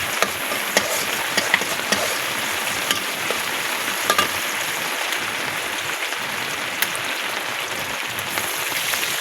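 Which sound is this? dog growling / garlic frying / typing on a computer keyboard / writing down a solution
garlic frying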